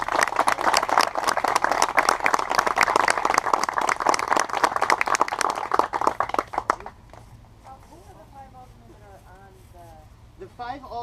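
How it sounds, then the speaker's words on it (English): Outdoor protest crowd on Kennedy Drive applauding attendees, a dense loud burst of clapping and a cheer lasting several seconds before fading out, followed by a quieter stretch with voices. "why don't we give everybody a round of applause for showing up today"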